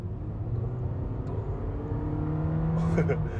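Hyundai Stargazer X (2023) under full throttle, a steady engine drone heard from inside the cabin with a rising tone building throughout the short stretch, while a voice speaks over it.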